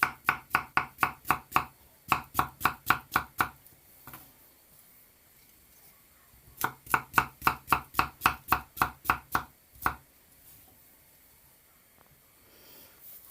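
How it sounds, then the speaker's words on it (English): A knife chops a green banana on a board for Jamaican-style pumpkin porridge in two quick bursts of sharp, evenly spaced cuts, about a dozen each, separated by a short pause, with a fainter scrape afterward. "I'm gonna start cutting up my banana."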